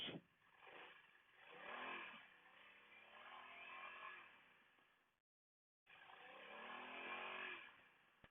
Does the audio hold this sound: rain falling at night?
no